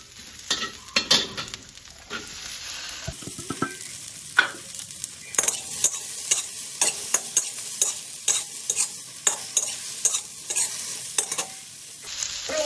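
Okra is stir-fried with fragrant garlic in a pan. A sizzling bed runs under repeated scraping and clattering stirs, close and fairly loud, with no talking.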